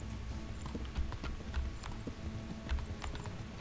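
Horse hooves clip-clop in a steady, moderately paced rhythm in the medieval game Kingdom Come: Deliverance, clear and close against a low background.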